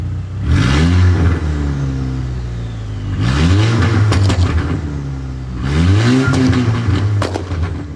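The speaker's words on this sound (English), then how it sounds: "But we'll give it a start up. And the noise this thing makes" A car engine at a garage fires up and revs hard in three loud surges, each climbing then settling to a rough, throaty idle between bursts, with no talking.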